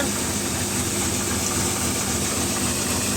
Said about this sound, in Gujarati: અહીંયા તમે જોઈ શકો છો કે સાતસો સાડા સાતસો આરપીએમ પર ટ્રેક્ટર ચાલે છે